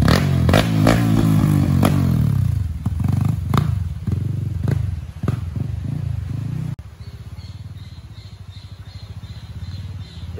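A Honda CRF dirt bike on the Bukit Cinta trail, revving close up in repeated sharp bursts with mechanical clatter, then dropping to a steadier, lower running note.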